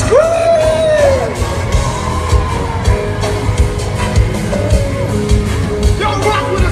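Gospel concert crowd at a live event screaming and cheering loudly, with sustained yells and whoops filling the space over music.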